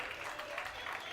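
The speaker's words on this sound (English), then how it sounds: "Round of applause, some more." Audience applause at a sponsor launch event for a football club, a steady wash of clapping from a crowd that stays even throughout with no clear peaks.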